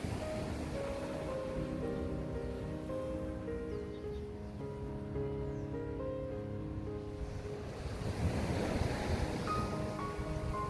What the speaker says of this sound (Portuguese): O mar nunca devolve à praia exatamente como encontrou. A água avança, recua, abre pequenos caminhos, apaga outros